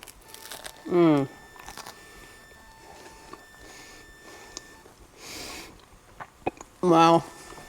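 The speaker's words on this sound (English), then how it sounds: "That bread has a nice crunch, nice crust" Bites into a crunchy gluten-free roll holding an Impossible meat Philly cheesesteak give two sharp crackling crunches a few seconds apart, with quiet chewing and soft sniffs in between.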